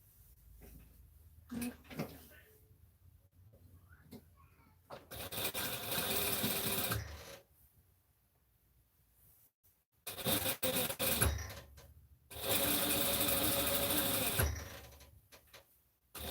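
A sewing machine stitching in three loud, steady whirring bursts of a couple of seconds each, separated by quieter pauses with faint handling sounds.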